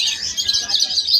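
Lovebirds in a Malabon bird seller's cages chirp continuously with dense, overlapping high tweets, close and fairly loud, with no speech over them.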